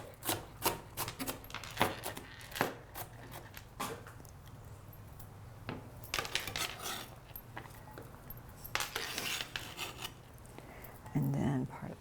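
A knife chops onion on a wooden cutting board while preparing guacamole, making a run of close, irregular knocks and scraping strokes. The chopping comes in bursts separated by short pauses, and a brief voice is heard near the end.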